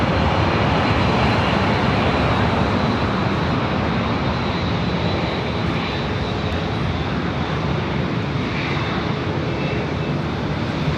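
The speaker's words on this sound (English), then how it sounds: "787 with United up next for takeoff here on the north side" A United Boeing 787 takes off from runway 24 left on the north side, its jet engines producing a loud, steady broadband roar that fills the whole stretch without letup; no voices over it.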